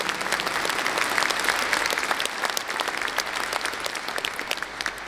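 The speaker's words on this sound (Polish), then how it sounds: "Bardzo proszę w tym momencie, drodzy Państwo, ogromne brawa dla naszych fantastycznych partnerów" A concert audience at a charity Christmas and New Year concert in Bytom gives sustained, dense applause. The clapping stays loud and even throughout, with no pauses.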